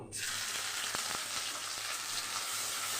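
Crushed garam masala and ginger paste sizzle in hot oil, a loud, dense, continuous hiss close to the pan with a couple of faint knocks, no voices.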